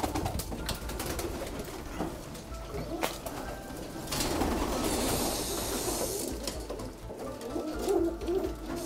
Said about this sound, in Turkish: süs güvercini kostüm kuşu diyorlar